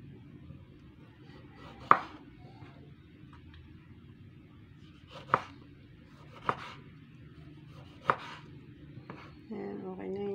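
An onion being chopped on a board: four or five sparse, distinct knife knocks spaced a few seconds apart over a quiet background hum.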